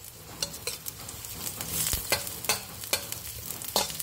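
Garlic and onion frying in a pan as the base for a beef kaldereta cooked with coconut milk. A steady close sizzle runs throughout, broken by scraping stirs and light clinks of a utensil against the pan. No one speaks.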